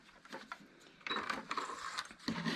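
A domestic sewing machine stitches a paper-pieced quilt block in a brief run of quick, close mechanical whirring and clatter that starts after a soft rustle and carries on steadily.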